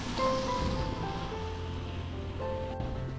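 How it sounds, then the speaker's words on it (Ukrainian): A steady outdoor rush of strong wind during a snowstorm in Truskavets, Ukraine, fills the clip, loud and continuous, with faint tonal hums drifting underneath. "Зараз в трускавці сильний вітер."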